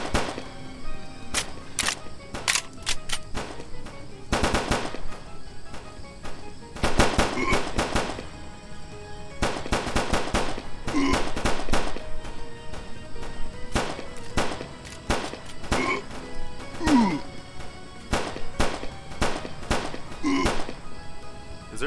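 Video game gunfire in dense irregular bursts of sharp pops and cracks, some rapid and clustered, others isolated, continuing loudly for about twenty seconds with no speech.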